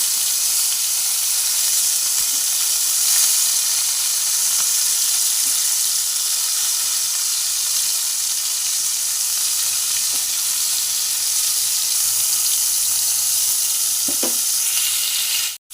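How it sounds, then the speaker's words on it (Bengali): Pointed gourds (potol) fry in oil with a loud, steady sizzle that never lets up, with a few faint pops and no voices. "এইভাবে পটলগুলোকে ভালো করে ভেজে নেব দেখে নিন"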